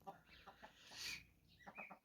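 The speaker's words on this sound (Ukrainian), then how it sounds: "Петух співає, бач." A rooster crows nearby in one drawn-out, rising call, with hens clucking softly before and after it.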